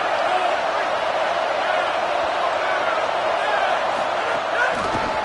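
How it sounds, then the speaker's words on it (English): A loud stadium crowd cheers and roars in a college football video game, a dense constant wash of noise that holds steady throughout. "This crowd knows this defense needs them right now."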